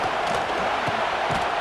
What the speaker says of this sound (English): Decibels rising as the crowd gets behind this defense on 3rd down